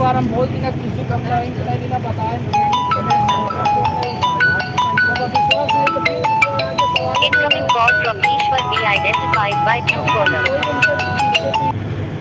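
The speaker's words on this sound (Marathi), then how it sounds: "फोन आला होता एक मध्येच" A melodic phone ringtone plays its short tune over and over above a steady low rumble, continuing for several seconds.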